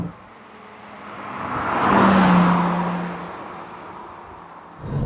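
A Porsche 987.2 Cayman S sports car swells in as it approaches, passes with a rising then fading engine note, and recedes before a second car begins to approach.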